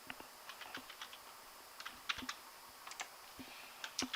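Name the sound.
typing on a computer keyboard into an Excel cell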